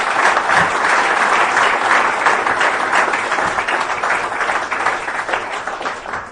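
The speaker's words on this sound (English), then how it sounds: "round of applause for that, please." Sustained applause from an evening audience honouring former Bournemouth footballer Paul Morrell, a dense steady wash of many hands clapping at full strength for several seconds, tapering slightly toward the end.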